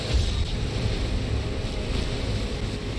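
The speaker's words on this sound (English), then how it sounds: "The waves, they screw with me." Ocean waves roll and wash in the Call of Duty Modern Warfare 3 game, a continuous loud rumbling surf with wind-like noise, steady and close with no voices.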